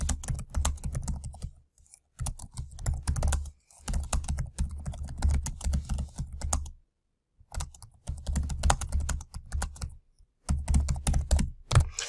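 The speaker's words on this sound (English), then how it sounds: "let's type out the question and see if Google can pick the correct one." Typing a question into Google Forms on a computer keyboard: bursts of close, steady key clicks separated by short pauses, with no talking.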